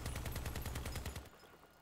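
Minigun fire in the vehicle combat game Crossout: a rapid, loud, evenly spaced stream of shots that stops abruptly partway through, leaving a faint low hum.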